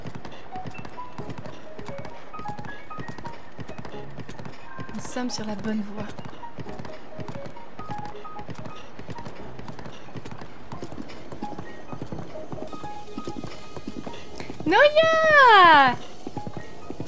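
Horse hooves clip-clop steadily in Breath of the Wild, a continuous gait under someone speaking French, with a short neigh near the end.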